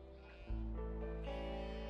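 In the Broken Roads video game, a single sustained sheep bleat rises suddenly and holds, layered over a droning musical score.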